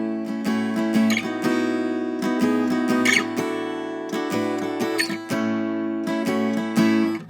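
Acoustic guitar playing the opening riff of a song, bright strummed chords in a steady repeating pattern, close and clear without talk.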